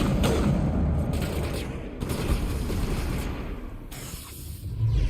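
Gunfire in the video game Mass Effect: dense bursts of rapid shots and booming impacts in several surges, loud and close, with brief lulls between volleys.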